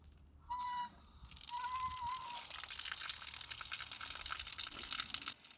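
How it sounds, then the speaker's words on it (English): An outdoor garden spigot is opened and water gushes out in a steady, fairly loud rush, following a brief squeak or whistle from the valve. "I'm going to open my outdoor water spigot."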